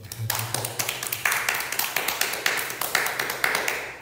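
A small group clapping for a marketing team at a livestreamed birthday party, quick sharp claps in a loose rhythm for about four seconds, close and fairly loud, with a brief low voice at the start.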